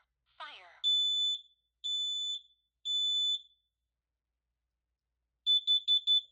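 Kidde KN-COSM-B fourth-generation smoke and carbon monoxide alarm from 2007 on a demo board gives three loud, shrill electronic beeps, then a rapid burst of four, with a short synthetic voice at the start.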